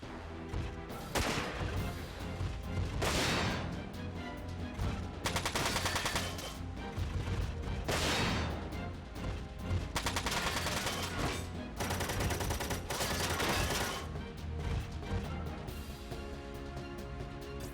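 Sniper gunfire in the Front Mission 4 video game, loud sharp shots and bursts recurring every second or two over a steady backdrop of game music and mechanical noise.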